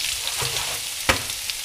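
Food frying in a pan over high heat on a stovetop, stirred once partway through: a steady close sizzle with one sharp scrape of a utensil, no voices.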